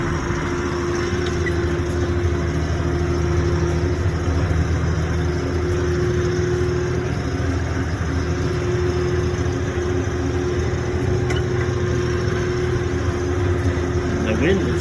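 A hay cutting machine runs steadily in an open field, its engine drone and whirring reel holding at a constant, loud level throughout while wind buffets in the background.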